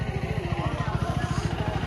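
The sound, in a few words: KTM Enduro 390 motorcycle engine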